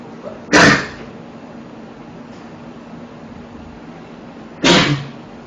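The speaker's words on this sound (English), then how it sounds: "I need to sneeze" Two sharp sneezes burst out close to the microphone, about four seconds apart, each a loud brief explosive blast against a quiet room background with no talk between them.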